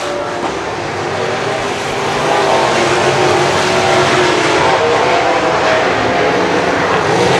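Sprint cars racing around a dirt track at a 2017 event, a dense continuous roar of engines from the pack that swells slightly louder partway through and then holds steady, with no voices.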